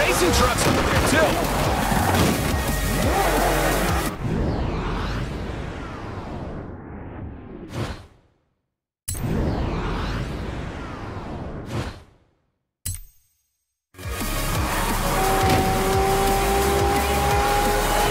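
A Bugatti Chiron driving in the racing game Forza Horizon 4, loud continuous engine roar and whooshing with sweeping pitch changes, broken by two short silent gaps, with game voices mixed in.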